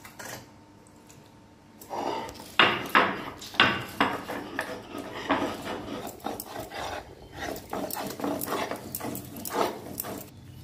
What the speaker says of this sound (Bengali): মশলাটা আমি শিলে বেটে নিচ্ছি।